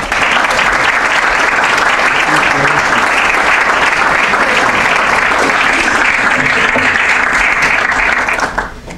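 Sustained loud applause from an audience welcoming Professor Rick Ifland to a downtown lecture on microfinance, steady throughout and tapering slightly at the very end.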